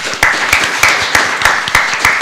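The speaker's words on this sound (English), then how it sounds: "thanking all three of our speakers with a little round" Short round of audience applause closing a transportation planning talk, with dense clapping pulsing in regular bursts, close and fairly loud, and no talking over it.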